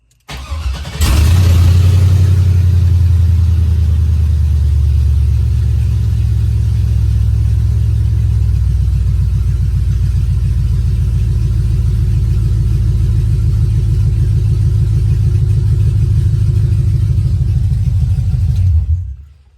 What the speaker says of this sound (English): So this is the first time you're actually gonna hear the truck turn on.